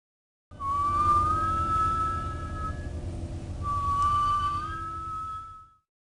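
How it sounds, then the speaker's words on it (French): Whistling running parallel to violin notes in George Crumb's autumn chamber piece for alto flute, clarinet, piano and violin: two long sustained, gently sliding tones separated by a short gap, over a low hum. "Le sifflement, attaché à doubler le piano dans le 2e écho, est ici parallèle aux notes du violon."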